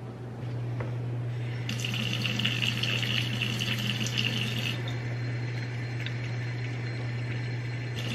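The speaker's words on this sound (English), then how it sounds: "Just put some regular tap water in there." Tap water pours steadily into the water tank of a Tikom robot mop, a continuous splashing gush that stays even for several seconds over a low constant hum.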